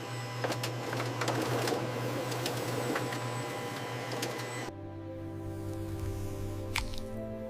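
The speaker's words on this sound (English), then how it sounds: "High-speed blades create uniform kiwi slices." Rapid high-speed blades slice kiwi halves on a factory line, a dense continuous machine whir with fine ticking, then the tone drops to a steadier mechanical hum partway through.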